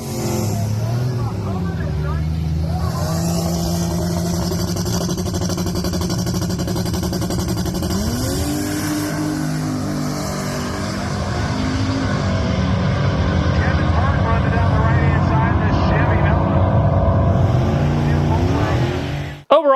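A Volvo race car makes a drag racing pass, its engine droning loudly and continuously while the pitch climbs and drops back through several gear shifts, ending abruptly.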